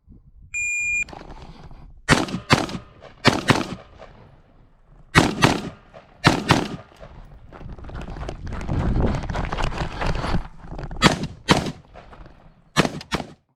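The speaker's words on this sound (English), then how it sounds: "we're going to shoot a group at 50 yards" Rifle fitted with a Monstrum Panzer LPVO scope fired at an outdoor range, a series of loud sharp gunshots in irregular pairs and singles, with a short electronic beep near the start.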